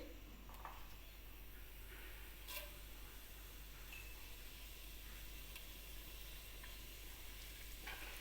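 Cumin seeds sizzle in hot oil in a pan, a steady close crackling hiss with scattered pops and small stirring scrapes running through the whole stretch.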